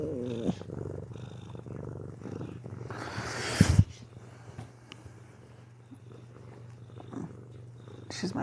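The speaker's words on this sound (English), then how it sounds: "Can you hear her purring?" A cat purrs loudly and continuously up close, a low steady rumbling hum, with a brief burst of rustling handling noise midway.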